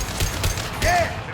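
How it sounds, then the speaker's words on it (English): An impact shot fired in the video game Mass Effect 2, a short burst of gunfire with a brief rising whine layered over busy battle noise. "Firing an impact shot."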